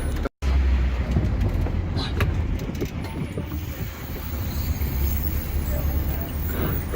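An open-top Big Bus tour bus rolls through Las Vegas traffic, its engine rumbling low and steady beneath surrounding road noise, with people talking faintly on board.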